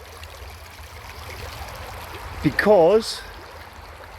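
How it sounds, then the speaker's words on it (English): Water flows past stacked stones in a stream with a steady trickling burble, close by and fairly soft, while a person speaks briefly near the end. "I like the effect of the water flowing past the stones when they're stacked."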